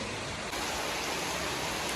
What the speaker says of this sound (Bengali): এবার বৃষ্টি বৃষ্টি যা পড়ছে না কি বলবো তোমাকে